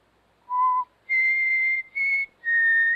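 Four clear whistled notes, one short low tone followed by three longer higher sustained pitches, close and alone with no talk.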